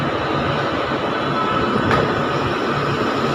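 A suburban train arriving at Churchgate terminus in Mumbai rumbles steadily with constant broadband rail noise and a faint brief squeal midway, no voices present.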